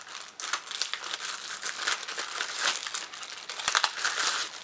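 A plastic bag crinkles and rustles continuously up close as a La Crosse BC-1000 battery charger is unwrapped, with sharp crackling bursts between the steadier crumpling.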